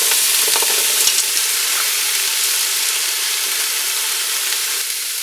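A 16-ounce bag of frozen stir-fry vegetables sizzles loudly in a hot pan, a steady bright hiss with a few small pops and stirring clinks near the start.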